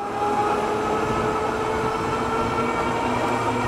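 A Ride1Up Cafe Cruiser electric bike motor accelerates uphill, a steady, fairly quiet electric whine over constant rolling and wind noise, with no talking.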